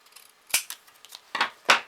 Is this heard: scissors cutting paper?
yes